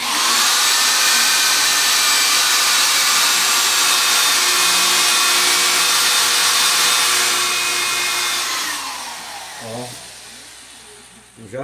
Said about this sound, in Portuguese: Vou fazer três furos, né? Três furos nessa madeira.